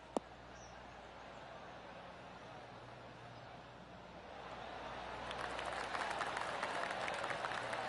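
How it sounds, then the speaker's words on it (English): Golf spectators around the 16th green break into applause after an approach shot into birdie range, a steady crowd clapping that swells louder over the last few seconds above a constant outdoor background hum. "That deserves a golf clap."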